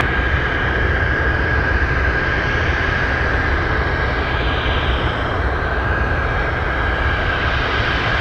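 Steady, continuous jet engine roar from an aircraft taxiing on a runway at Anchorage airport, where Boeing 747s operate. The sound is loud and constant throughout, with a sustained tonal whine sitting over a broad rumble and no voices.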